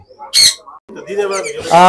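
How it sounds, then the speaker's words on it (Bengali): A sharp black-capped conure squawk rings out once, close and loud, in a bird shop, followed by a person talking. "এটা ব্ল্যাক কাপ কোনর"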